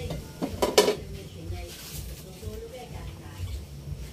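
A metal lid clanks onto a cooking pot of soup, with a couple of sharp metallic knocks near the start, then soft kitchen clatter and a faint simmer under a voice.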